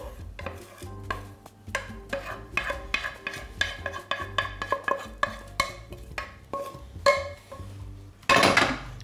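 Fried vegetables stirred into a bird's nest breakfast dish, with a spoon scraping and clinking against the pan in a quick close rhythm that ends in a louder clatter.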